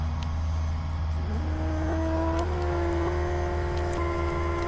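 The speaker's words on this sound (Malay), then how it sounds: "Agak kuat sikit lah bunyi air pump dia, tapi tak sekuat air pump yang besar-besar" A steady, loud electric air pump motor inflating an air tent drones and whirs continuously, its pitch rising slightly as it runs.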